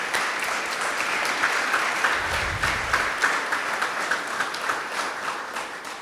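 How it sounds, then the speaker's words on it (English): An audience claps steadily at a university gathering, producing a dense, continuous wash of many hands that holds at an even level for several seconds without letting up. "Please join me in offering some applause."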